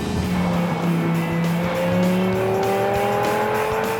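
A sports car drives steadily along a road, its engine note droning and rising continuously at close range with constant road and tyre noise, no speech.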